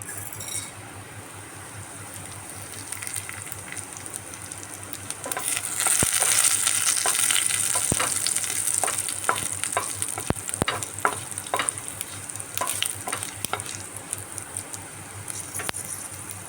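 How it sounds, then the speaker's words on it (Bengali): Cumin and fenugreek seeds crackle and sizzle in hot oil, the frying swelling after a few seconds while a utensil taps and stirs the pan with irregular clinks. "তেল গরম হয়ে গেছে এর মধ্যে আমি অল্প জিরা আর মেথি ফোড়ন দিচ্ছি"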